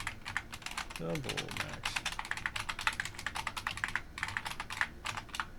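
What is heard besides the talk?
typing on a computer keyboard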